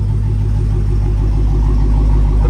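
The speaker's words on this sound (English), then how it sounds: "The burble coming out of these tailpipes is outrageous." A 2018 Dodge Challenger SRT Demon idles with a deep, steady exhaust burble from its tailpipes, loud and close, a constant low rumble with no talking.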